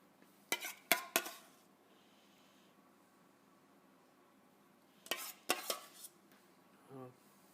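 Béchamel sauce added to a pan with blanched, confit garlic and stirred, giving two clusters of sharp utensil clinks against the pan separated by a quiet pause, then a soft scrape.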